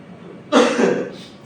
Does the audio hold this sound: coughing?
yes